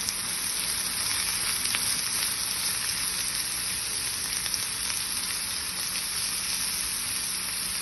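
Chopped onions frying and being stirred in a pan for a Kerala-style jackfruit and beef biryani: a steady, close, dense sizzle that holds evenly throughout, with no voices.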